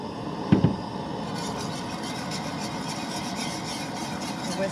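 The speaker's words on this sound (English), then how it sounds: "Whisk those in there." A whisk scrapes steadily through shredded cheese in thickening milk in a pot at a campsite, a continuous soft rasping close by with a small clink near the start.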